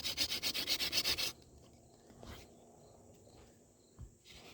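A wooden spindle is spun back and forth on a fireboard with a hand drill, producing about ten quick rhythmic rubbing squeaks in a burst before stopping, followed by quiet handling noises.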